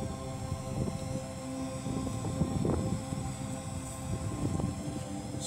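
Parrot Anafi drone flying outdoors while its pilot walks along, a steady broadband propeller buzz and hum holding at an even level throughout, with no voices.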